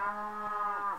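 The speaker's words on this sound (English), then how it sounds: "shut up, cows." Cows mooing in Minecraft, a single drawn-out moo with a wavering pitch, moderately quiet and alone over faint background.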